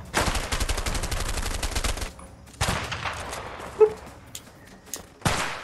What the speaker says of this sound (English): I'll lay down suppressive fire